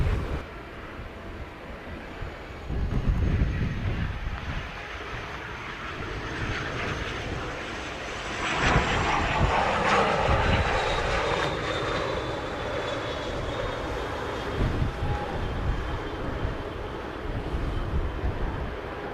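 A fixed-wing airplane lands at Montego Bay airport in Jamaica, its engine roar steady and fairly loud throughout, swelling as it passes close around the middle and then holding a broad rumble as it rolls out, with no voices.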